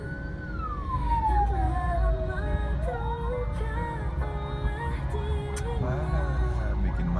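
An ambulance siren wails, sweeping up and down over steady traffic rumble, moderately close, with engine noise underneath throughout.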